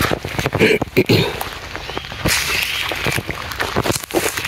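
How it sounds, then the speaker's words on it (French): Rain patters steadily on a surface nearby, with sharp drips and splashes breaking through a constant hiss. "Aujourd'hui il pleut, c'est chiant."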